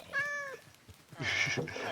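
A cat meows in a Minecraft-style survival game, two drawn-out synthetic mews separated by a brief pause.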